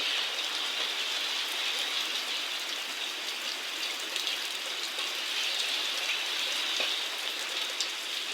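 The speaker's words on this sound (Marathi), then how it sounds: "खूप जोरदार पाऊस आहे" Steady heavy rain with stormy wind pours down continuously, a dense hiss of drops drumming on surfaces with no pauses and no voices.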